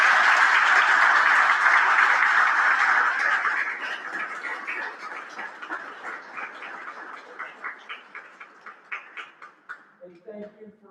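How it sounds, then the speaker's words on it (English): Panel audience applause, a full burst of clapping that thins over several seconds into scattered, separate claps before dying out, with a voice starting at the very end. "big round of applause for us"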